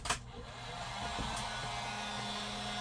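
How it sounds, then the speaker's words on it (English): A heat gun starts with a short burst and settles into a steady, close blowing roar of hot air set to medium, used to apply hot foil transfers. "So we're going to turn the heat gun on."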